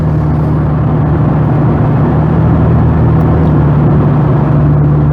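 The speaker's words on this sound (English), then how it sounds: "A lot of oncoming traffic leaving the island here as I'm going onto the island." Steady car engine and tyre rumble while driving onto Galveston Island at night, a constant close drone with oncoming traffic passing, no talk.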